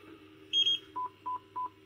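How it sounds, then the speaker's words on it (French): A Bluetooth-equipped jobsite radio gives short electronic beeps as its volume reaches maximum: one longer high beep, then three evenly spaced lower beeps, close and clear over a faint hum. "on entend les bips quand il arrive à fond du volume"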